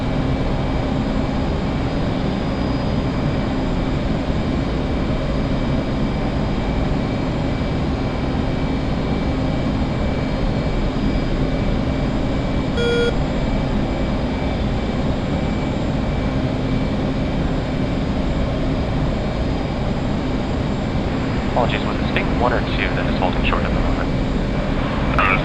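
A jet aircraft taking off on a runway in a flight simulator game, a loud steady engine roar that holds throughout, with brief radio chatter near the end.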